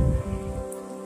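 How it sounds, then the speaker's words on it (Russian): A heavy downpour pours onto surfaces outside homes in Arad, Israel, a loud, close, steady hiss of rain over a low tonal hum. "Вы только посмотрите, какой ливень."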